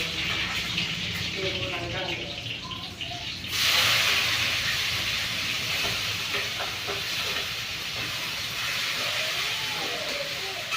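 Tomatoes hitting a hot pan give a sudden loud sizzling hiss that holds steady to the end, over quieter kitchen sounds at the start.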